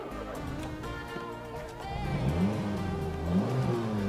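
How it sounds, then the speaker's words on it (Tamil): A Ford Ikon car engine revs up, climbing in pitch in two rising surges over a steady idle rumble, close and loud. "இதை ஸ்டார்ட் பண்ணால் இன்ஜின் சவுண்ட் நீங்கள் கேளுங்க"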